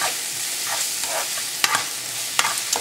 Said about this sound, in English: So we'll fry everything well together